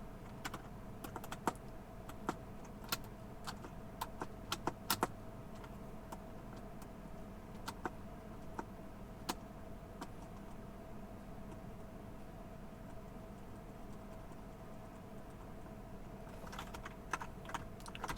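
Someone types on a computer keyboard in a quiet room, with sharp scattered clicks in irregular bursts over a low steady hum, some keystrokes louder than others, and no voices.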